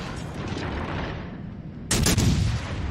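Warship guns fire in a World of Warships naval battle, a sharp loud blast near the two-second mark bursting out of a steady rumble of battle noise.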